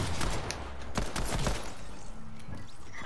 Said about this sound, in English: Overpowered SMG.